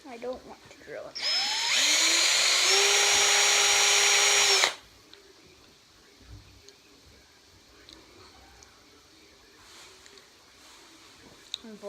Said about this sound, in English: Unfortunately, it is making me drill into the body